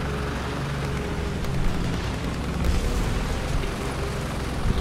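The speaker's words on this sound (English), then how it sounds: "that's our one of our tanks got destroyed" A tank is destroyed in the video game War Thunder, giving a sustained, loud rumbling blast roar with dense low-end noise that continues throughout, without a sharp single onset.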